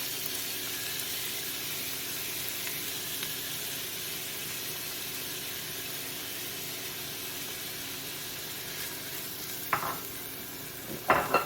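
Frozen chopped onion and two garlic cloves fry in a hot pan for Christmas food prep, giving a steady, close sizzle that holds evenly throughout, with a couple of brief clatters from stirring near the end.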